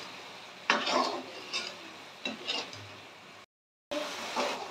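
A spoon scrapes and stirs fish curry masala in a pan in a home kitchen, producing soft sizzling and a few distinct scraping strokes, then a brief silence before stirring resumes.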